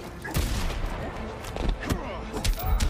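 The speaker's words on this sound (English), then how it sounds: "For the quick gunshot there was SylverRye" Quick gunshot in the fighting video game Injustice 2 during a tournament match, sharp repeated cracks and thuds amid dense game effects and crowd noise, with commentators talking over it.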